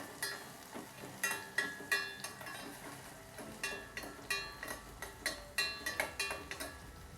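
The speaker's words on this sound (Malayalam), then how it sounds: "ഇനി ഒന്ന് ഇളക്കി കൊടുക്കുക. ഉള്ളി മുളകും കറിവേപ്പിലയും എല്ലാം ഒന്ന് മൂത്ത് വരണം." Onion, chilli and curry leaves are stirred as they fry in a pan for Kerala mango curry, a quiet steady sizzle under repeated crisp scraping and clinking strokes of a spoon in a regular rhythm.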